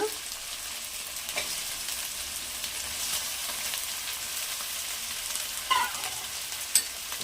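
Chicken pieces frying in a hot pan with ginger-garlic paste and fenugreek leaves for chicken sherwa, a steady close sizzle with a few clinks of stirring, no voices.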